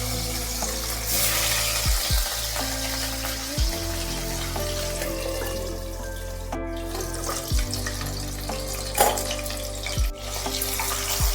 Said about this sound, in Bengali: আমি এবার মাছের পিসগুলো তেলের মধ্যে দিয়ে দিচ্ছি